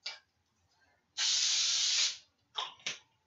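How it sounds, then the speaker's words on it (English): Cooking spray hisses from a can onto parchment paper in a baking pan: one loud, close burst of about a second, flanked by shorter spritzes and soft handling sounds. "you will spray it with your cooking spray"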